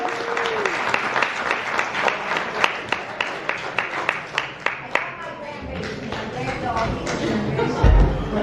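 Wedding guests clap together in a loud burst of applause with sharp individual claps standing out, thinning toward the end as a voice begins speaking over the room.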